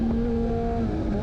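A Kawasaki Z900RS motorcycle modified by Moriwaki accelerates on a race track, its engine a steady, close droning roar with a rising tone that drops near the end as it shifts.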